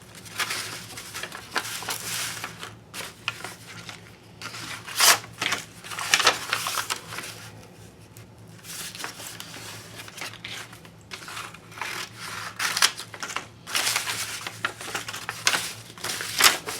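Scissors cut through a brown paper bag in repeated bursts of crisp crinkling and snipping, close by, with quieter pauses between cuts.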